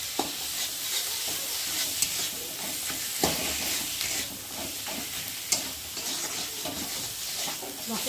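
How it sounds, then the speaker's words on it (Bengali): A fish head fries in spice paste in a pan, crackling in a continuous close sizzle broken by sharp spatula clicks and scrapes against the metal. "মশলাটা ভাজা হবে আর এখন আমি মাছের মাথাটা ওর মধ্যে দিয়ে দেবো"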